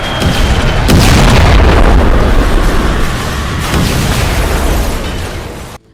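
Heavy, rumbling booms of bomb explosions in a war strike roll continuously through the clip, a dense roar of blasts that stays loud for several seconds before cutting off abruptly.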